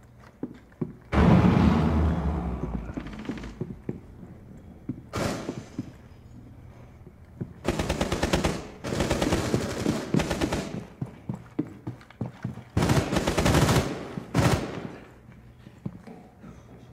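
Rainbow Six Siege gameplay with loud bursts of automatic gunfire and explosive blasts in several separated clusters, sharp and close, with quieter gaps between them and no talk.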